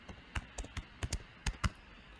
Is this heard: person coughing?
no